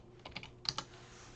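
Several quick keystrokes on a computer keyboard, close and fairly quiet, in a short uneven burst with a couple of sharper clicks and no talking.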